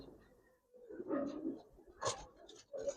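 Low, throaty cooing from a pair of Giribaz pigeons, male and female, rises in a few short bursts against a quiet background, with brief gaps between calls.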